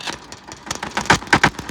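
A tractor engine runs after an air filter repair, producing close, uneven chugging pulses that grow stronger toward the end.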